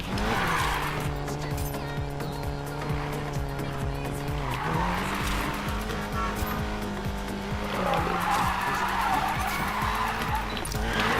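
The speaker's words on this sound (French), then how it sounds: "c'est pas spécialement évident de faire du drift." A Volkswagen Golf 7 GTI drifts in the racing game Need for Speed Payback on PS4, its engine droning steadily while the tires squeal and skid through long slides, with music running underneath.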